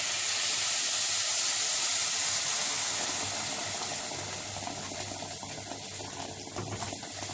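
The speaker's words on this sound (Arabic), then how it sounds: "اول ما تشوحوا مع بعض تشويحه كويسه هنزل عليهم بقى بالميه السخنه" Hot water poured onto sautéed vegetables and poultry in a pan, bursting into a loud steamy hiss that slowly fades into softer bubbling sizzle, with no voices.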